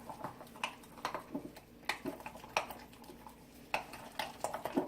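A spice paste is mixed in a bowl, giving soft, irregular clinks and scrapes of a utensil against the bowl, faint and close.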